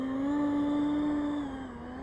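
An FMS A-10 twin 70 mm RC model jet gives a steady, loud electric-fan whine that holds one pitch, then dips slightly near the end of the short stretch.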